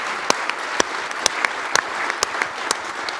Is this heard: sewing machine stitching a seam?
no